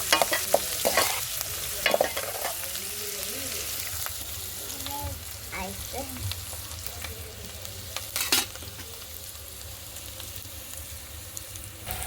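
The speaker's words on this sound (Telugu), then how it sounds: "ఉల్లిపాయ పచ్చిమిర్చి వేయించుకుంటున్నాను ఫ్రెండ్స్." Onions and green chillies frying on a wood-fired stove, a soft continuous sizzle with repeated stirring scrapes and sharp clatters of the spoon, close by, and a faint voice briefly in the background.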